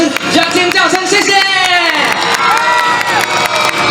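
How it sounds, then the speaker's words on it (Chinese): Concert audience at a Mid-Autumn festival evening show in Dongshi, Taichung, bursting into loud cheering, screams and whoops, with excited children's shouts mixed into the dense crowd roar. "也给我们现场所有的工作人员热情的掌声，加尖叫声"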